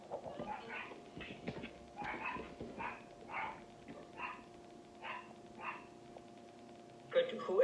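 Small dog barking repeatedly in a room, a string of sharp yips at a moderate distance over a faint steady hum, with voices talking quietly underneath.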